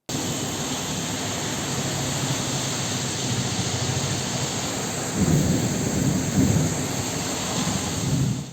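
Heavy rain pours steadily in Hyderabad, a dense roar with deep rumbling thunder swelling louder midway, with no voices.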